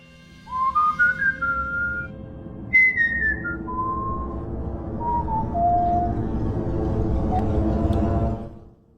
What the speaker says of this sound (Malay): Saya cuba cari bunyi bersiul ni.